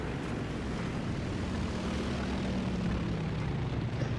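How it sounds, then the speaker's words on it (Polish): Propeller aircraft engines drone overhead in a War Thunder tank battle, a loud, steady, unbroken roar with a slowly shifting tone, heard alone with no speech. "Strasznie te samoloty nas walą."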